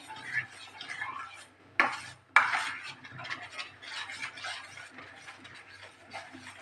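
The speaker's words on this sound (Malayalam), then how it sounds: "കൈയെടുക്കാതെ ഇളക്കിക്കൊണ്ടിരിക്കണം ഇളക്കിയില്ലെങ്കിൽ ഇത് അടുക്കി പിടിക്കും" Tender coconut halwa is stirred nonstop in a pan, giving a run of close scraping and clattering spoon strokes, with two sharp louder knocks near the start and softer, uneven stirring after, no talking.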